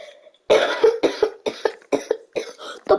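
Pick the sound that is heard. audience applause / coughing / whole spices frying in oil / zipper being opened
coughing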